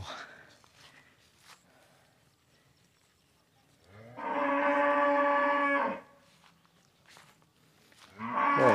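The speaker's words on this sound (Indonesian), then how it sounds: "langsung disambut dengan suara aungan sapi" Cattle in a farm barn on a village livestock farm low repeatedly, with one long, loud nearby moo in the middle and another starting at the end, amid quieter shuffling and faint background sounds.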